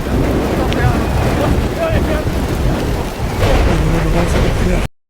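A night storm high in the Andes mountains roars steadily with heavy wind and rain, a dense loud rumbling wash that swells and dips before cutting off abruptly.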